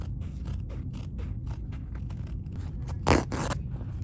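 Scissors snip through fabric along a marked line for a circular bag, a quick run of close, regular crisp cuts with one louder scraping snip near the end.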